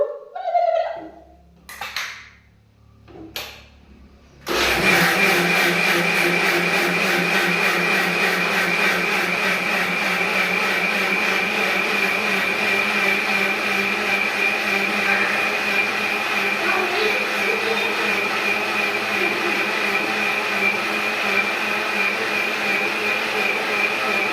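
A kitchen mixer grinder starts after a few brief knocks and then runs steadily for about twenty seconds with a loud, constant motor whine and grinding buzz, grinding batter for dosa.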